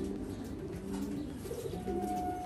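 Pigeons coo low and continuously in a loft, a soft, steady burble that fills the background with no talking over it.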